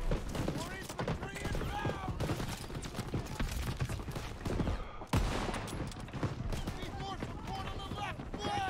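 Call of Duty: WWII Battle of the Bulge gameplay fills the scene with dense rapid gunfire, sharp shot bursts and battle noise, continuous and loud, while a player talks over it.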